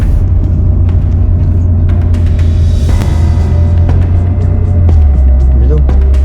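A car rolls along a rough detour road with a heavy, constant low rumble and rattles from the cabin, while people talk inside.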